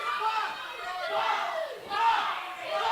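A pro wrestling crowd roars and cheers in a packed arena, a continuous loud wash of shouting voices that swells and dips, with a fresh surge near the end.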